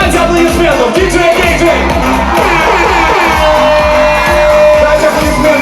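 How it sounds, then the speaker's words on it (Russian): A loud concert crowd cheers and shouts continuously, voices whooping over a dense, booming wash of sound that stays intense throughout. "Дайте аплодисментов, диджей!"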